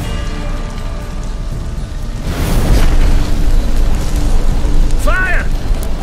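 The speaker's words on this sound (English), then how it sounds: "Fire! In here, quickly! The flames! Douse the flames!" Fire roaring into flames in The Witcher 3: Hearts of Stone, a loud whooshing burst swelling at once and holding as a steady crackling roar, close and heavy, with a voice joining near the end.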